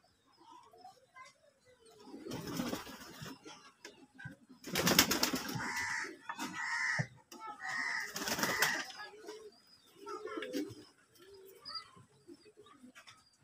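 Loft pigeons cooing, with bursts of wing flapping and shuffling at close range, several louder flurries in the middle, while rain falls outside.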